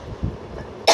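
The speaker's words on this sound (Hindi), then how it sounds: "आज मॉर्निंग से ही मुझे बहुत ज़्यादा खांसी आ रही है।" A single short cough from a person, close and clear, followed by a sharp burst at the end of the clip, with no talk over it.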